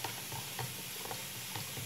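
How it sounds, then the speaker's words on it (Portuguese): Caustic soda solution for homemade salt soap is stirred in a container, a soft continuous swishing and scraping with faint fizzing texture, close and steady, no talk. "Eu vou continuar mexendo a soda pra não parar."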